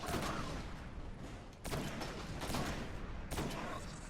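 Precision shots fired at a boss in the video game Destiny, played solo as a Warlock in Challenge of Elders, come as a few faint, sharp broadband bursts over a steady dense wash of game noise.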